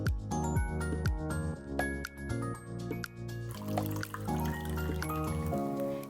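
Water is poured into a pot to make tea, a close trickling and filling sound with bubbly splashes that shifts partway through, heard without speech.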